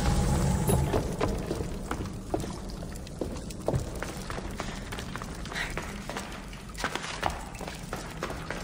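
Flowing, splashing water in the video game Assassin's Creed Odyssey runs steadily throughout, with soft repeated clicks and bumps layered over the continuous wash.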